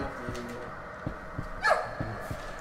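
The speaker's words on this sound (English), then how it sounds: "There's a dog barking." A dog barks in a horror video game, a few short, sharp barks spaced out over a steady low background drone, moderately distant, followed by a brief higher yelp.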